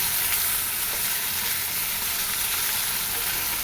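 Medium-cut vegetables stirred in a hot pan, with an even, moderately loud sizzle and faint scraping of the stirring throughout.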